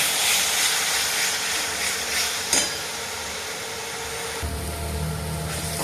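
Spices including turmeric and homemade cumin-coriander masala stirred in a hot pan, a steady close sizzle and hiss with a single clack of the spoon against the pan, and no talk.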